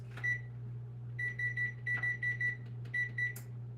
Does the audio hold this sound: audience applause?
no